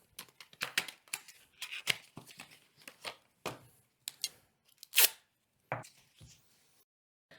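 Kinesiology tape is pulled and peeled from its paper backing in a quick series of short crinkly rips and rustles, irregular and close, with brief silent gaps between and no talking.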